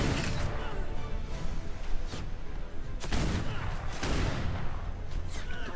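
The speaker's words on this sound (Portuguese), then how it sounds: "Deu um tiro nela." Gunfire in the pirate-island video game Atlas: several sharp shots burst out at irregular intervals over a busy, continuous game background.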